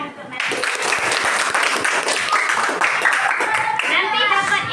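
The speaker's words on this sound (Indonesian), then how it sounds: "Kita tepuk tangan untuk Madri." Classroom applause from a group of children, dense steady clapping running throughout at close range, with kids' voices chattering and calling out over it.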